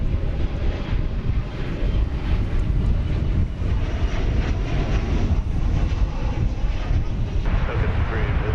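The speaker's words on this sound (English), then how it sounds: "this flight coming in from Santa Ana, California. 737-800" An American Airlines Boeing 737-800 on flight 2114 from Santa Ana, California, landing at DFW Airport, its engine roar a steady broadband rumble with wind buffeting over the whole stretch.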